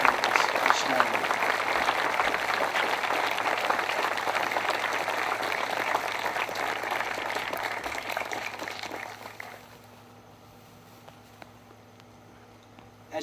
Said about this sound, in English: if you could please join me with a round of applause for all of those in the aviation, the pilots, and flight attendants this morning